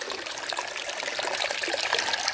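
Water trickles steadily from a small spout at the source of the Mogi Guaçu river, a continuous close splashing flow with no talking.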